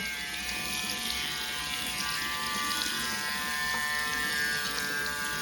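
A Braun Series 5 electric shaver runs underwater, a steady close buzzing motor hum with watery gurgle, continuous and fairly loud with no talk.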